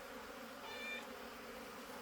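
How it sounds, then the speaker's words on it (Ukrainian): A steady insect buzz of many bees droning together around a hive during an evening orientation flight, with a brief brighter whine from one passing close, no voices. "Це може бути обльот молодої бджоли."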